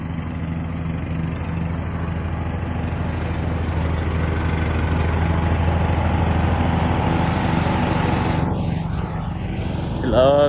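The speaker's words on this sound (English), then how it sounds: "Got help mowing the orchard." A lawn mower mows an orchard in a steady, droning engine hum with a strong low harmonic buzz, continuous throughout and moderately close, a brief higher sweep near the end.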